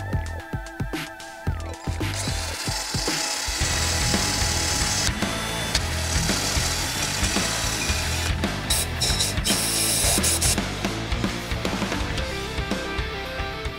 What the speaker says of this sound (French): Allez, un petit coup de brosse au fond.